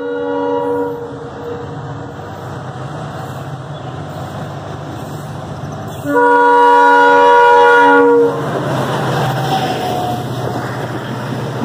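Train crossing the Panval viaduct on the Konkan railway, a steady rumble of wheels on the high bridge with a loud horn blast of about two seconds partway through, then continuing rolling noise.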